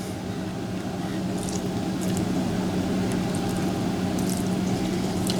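Apple cider vinegar poured onto cucumbers, heard as a steady, close liquid trickle and splash lasting several seconds, with faint clinks on top and no voices.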